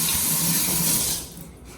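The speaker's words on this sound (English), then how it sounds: "Stella, can you give Sebastian some of the water, please?" Water poured by a child into a cup during a seed pop craft, a loud close splashing stream that runs for about a second before cutting off abruptly, with no voices.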